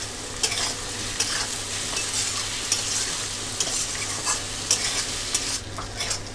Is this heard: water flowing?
no